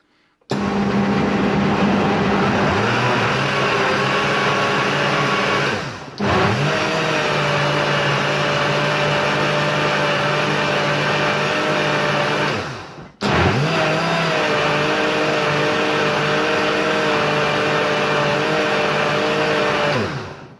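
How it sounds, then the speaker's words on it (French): A blender whirs loudly, blending radish tops into a smoothie in three sustained bursts with brief pauses between them, and no talk over the motor. "Je vais mixer, ça a duré un peu moins longtemps que tout à l'heure pour le pesto."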